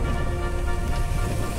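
Rain pours steadily during a windy storm at an outdoor street protest in Blumenau, Brazil, a dense, even hiss of falling drops close by with no voices.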